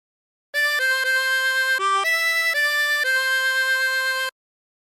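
A 24-hole tremolo harmonica plays a short phrase of Yellow Rose of Texas, sustained reedy notes changing pitch several times in one continuous breath, close and clear with no voices.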